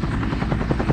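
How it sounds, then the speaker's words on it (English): Bell UH-1 Huey military helicopter, its rotor thumping in a steady, fast beat over a dense turbine roar, loud and close throughout with no voices. "The UH-1 was also the world's first dedicated attack helicopter."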